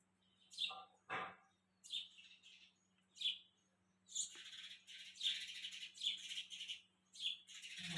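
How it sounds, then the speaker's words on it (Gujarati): Small birds chirp near a Shiva temple in the early morning, after the aarti, with bright repeated tweets in short bursts over a quiet background and a faint low hum underneath. "સરસ મજાની ચીચી કરે કરતા શાંત હોય તો વારમાં એવું સંભળાય છે"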